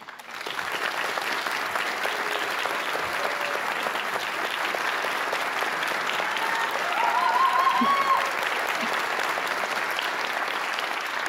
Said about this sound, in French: Je vous demande un tonnerre d'applaudissements pour Claude et Mona.